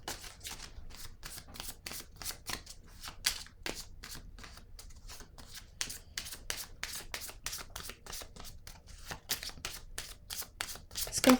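Tarot cards are handled, shuffled and laid down on a table in a quick, close, crisp series of flicking riffles and soft slaps that run steadily throughout, with no talking.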